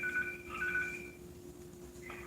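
A telephone is dialed for a call, short electronic tones sounding in quick succession over a steady low hum, faint and quiet in a home setting.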